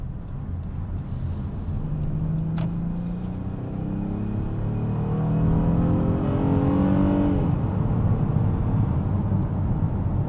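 2025 Honda Odyssey minivan with a VTEC engine accelerating hard, a loud sustained engine roar climbing steadily in pitch with an audible change in tone partway through, heard from inside the cabin with no talk.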